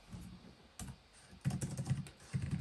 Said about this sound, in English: Now, type on it briefly just to show you it in action.